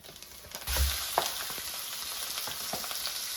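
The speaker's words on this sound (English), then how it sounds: "And add ground turkey to the pan." Ground turkey sizzles steadily in a little oil in a pan for fajitas, a continuous close, crackling fry that swells after a brief quieter start.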